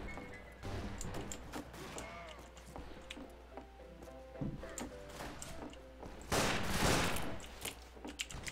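Pistol gunfire in the Western multiplayer shooter game Fistful of Frags: scattered sharp shots and impacts over game ambience, with a denser, louder burst of fire near the end.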